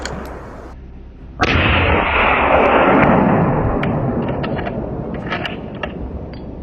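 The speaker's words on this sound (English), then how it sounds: "He risks it and fires." A rifle shot fired at a wild boar during a hunt in dense pine forest cracks sharply and loud, then rolls into a long booming echo that slowly fades across the terrain.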